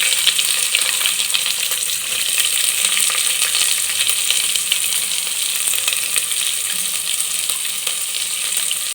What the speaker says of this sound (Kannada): ಸಣ್ಣದಾಗಿ ಹೆಚ್ಚಿಟ್ಕೊಂಡಿದ್ವಲ್ಲ ಈರುಳ್ಳಿ ಹಾಕೋಣ